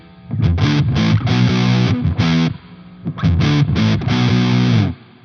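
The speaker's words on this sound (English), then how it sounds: "Sometimes with fuzz, it gets a little too dry. So adding a spring reverb gives it a nice little tail." An electric guitar played through fuzz distortion and spring reverb rings out in two loud, sustained bursts of chords with short reverb tails and a brief gap between them, with no talking.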